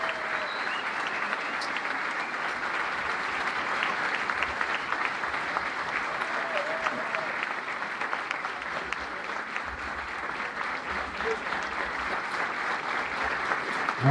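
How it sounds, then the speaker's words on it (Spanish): Sustained audience applause at a gathering in Punta Ballena, Uruguay, steady dense clapping carrying evenly for about fourteen seconds with no voices over it. "Un aplauso para el muchacho de esta estila."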